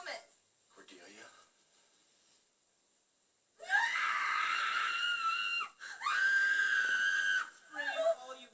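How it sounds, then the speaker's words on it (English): A woman screams in two long, loud, piercing bursts after a few quieter breathy noises, within a scene from the television series Buffy the Vampire Slayer. "that's a good scream."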